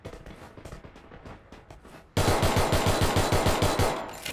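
Free Fire Max video game gunfire: sparse lighter shots at first, then a sudden loud rapid burst of automatic fire in a steady rhythm to the end, close and dominant.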